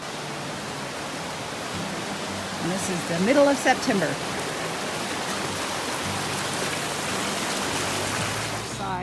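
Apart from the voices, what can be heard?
water flowing down from Mildred Lake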